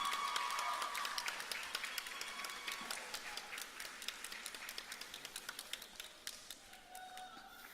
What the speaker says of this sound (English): say thank you by a sustained round of applause